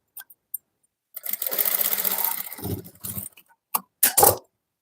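A sewing machine stitching fabric, a couple of short taps and then a steady motor-driven run of about two seconds, followed by a few brief bursts of stitching, close and clear.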